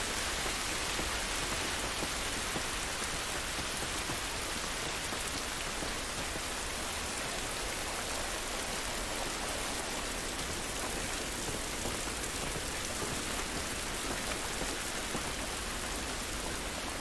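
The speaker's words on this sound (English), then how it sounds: "It's raining, but it isn't good." Steady, dense video game rain pours down continuously, a broad hiss of drops striking surfaces with no voices, constant and fairly close throughout.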